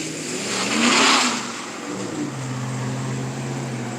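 A truck engine rumbles and revs as it passes, swelling loud over about a second and then settling into a steady drone, heard on a stormy night.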